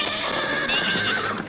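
A cartoon horse whinnies loudly and close up in a long, wavering, high-pitched neigh that fills the moment with no talk over it.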